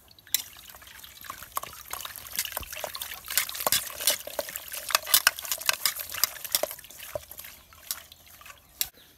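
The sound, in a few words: washing cut fish with water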